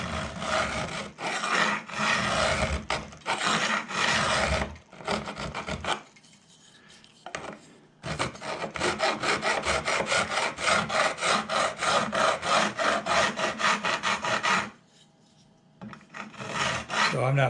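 A metal file dressing the fret ends on an OM guitar neck, close rasping strokes in steady back-and-forth runs with brief pauses between sets.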